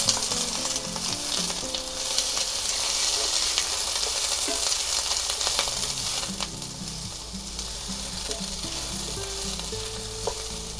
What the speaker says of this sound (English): Now we're going to take our red and green bell peppers and onions and put them right in there.